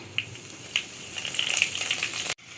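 Crushed onion frying in hot oil with mustard seeds and curry leaves makes a crackling sizzle with scattered sharp pops that grows busier before cutting off abruptly.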